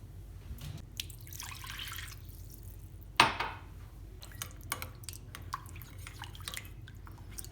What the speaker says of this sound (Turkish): Bir su bardağı kadar su koyacağım.